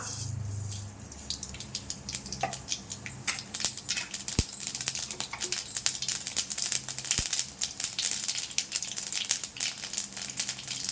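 Rapid scattered crackles and sharp pops of mustard seeds spluttering in hot oil, growing busier over a steady sizzling hiss.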